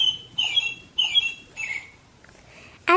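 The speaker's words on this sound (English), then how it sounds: "You definitely know it's springtime when you hear the birds outside." Springtime birds call outdoors in short, bright bursts, several separate chirps and squawks spaced apart over quiet background.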